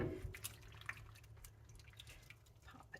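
Pasta water drips from freshly cooked pasta lifted out of a pot into a pan, a scatter of small close drips and patters fading over a few seconds.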